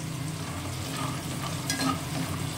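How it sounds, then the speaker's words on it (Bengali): Lentil dumplings (bori) frying in mustard oil in a pan, a steady close crackling sizzle that runs unbroken throughout with no voices. "এবার বড়িটা ভেজে নেব"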